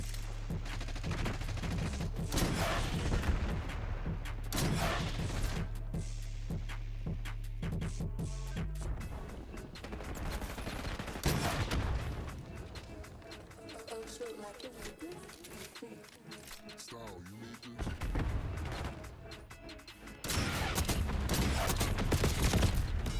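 Automatic rifle gunfire in the Black Ops 6 Hardpoint mode, an FFAR 1 firing in repeated bursts among other shots and in-game effects, with a player talking over it.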